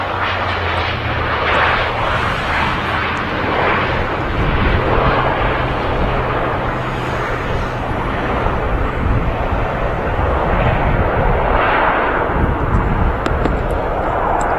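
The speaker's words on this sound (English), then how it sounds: "just touching down from Dublin, featuring the new colour scheme, is the brand new ATR 72" An ATR 72 turboprop airliner arriving from Dublin touches down at Manchester Airport, its engines producing a loud, sustained roar that rises and falls over the landing roll.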